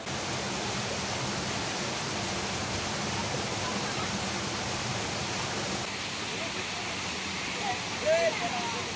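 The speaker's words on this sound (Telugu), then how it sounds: "ఇక్కడ ఉన్న వాటర్ ఫ్లో అయితే మొత్తం చూపించేసినాం మీకు" Water flows at Bodakonda waterfall near Hyderabad as a constant broad rush, fairly faint and even, with a few small splashes or movements toward the end.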